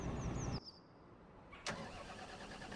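Valtra tractor engine in Farming Simulator 25 cranking and catching, with a brief whine, a pause, then a sharp start settling into a steady idle rumble.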